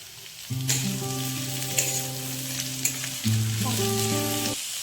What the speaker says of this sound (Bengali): তারপর বাঁধাকপিগুলো আমরা ভালো করে ভেজে নিব